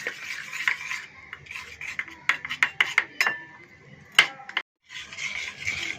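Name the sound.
spoon stirring cocoa powder mixture into milk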